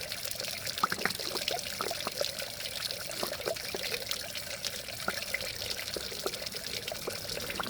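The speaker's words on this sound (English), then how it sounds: "Keep doing it until you see clean water coming out of this pipe over here." Water pours steadily out of a car radiator pipe during an engine coolant flush at home, a continuous close splashing trickle with no talking.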